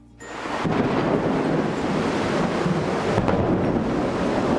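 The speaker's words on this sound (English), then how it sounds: "When thunder roars, go indoors." Thunder rumbling through a storm: a deep, loud, continuous roll that swells in within the first moment and holds steady to the end, with no voices.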